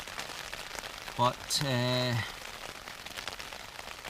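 Rain falling on a tent while wild camping in Scotland near the old ruins of the Woodhead Lead Mines, a steady, fine, hissing patter that runs throughout, with a voice speaking briefly over it near the middle.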